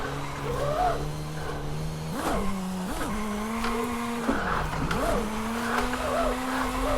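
A small Volkswagen in Forza Horizon 5 screams at high RPM with wheelspin, its engine note holding high with brief revs and dips and a tire squeal layered in.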